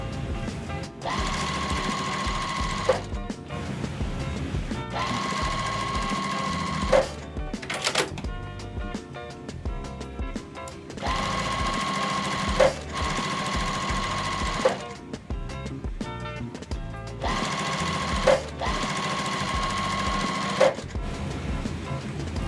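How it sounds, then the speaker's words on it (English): A sewing machine stitching quilt block pieces in a steady mechanical whir, running in several long bursts separated by short pauses, close and clear. "I'm gonna go ahead and sew this all up and finish this off."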